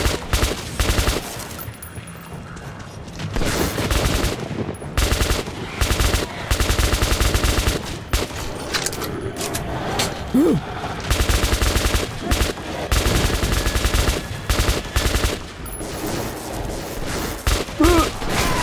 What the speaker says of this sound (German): Die Waffe ist ein bisschen still, ne?